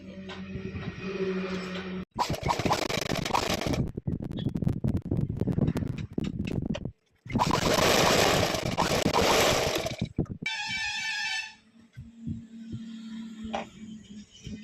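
A sewing machine stitching a lehenga top runs in loud mechanical bursts with rapid rhythmic clatter. Short pauses break the runs, and softer handling noises and a faint voice come near the end.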